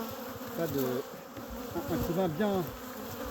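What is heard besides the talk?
honeybees buzzing at a hive during ivy flow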